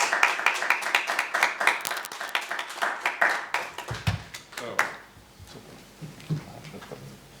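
A room full of people applauding at an agreement signing between two municipalities, brisk clapping for about five seconds that fades out into quiet room noise with a few soft bumps.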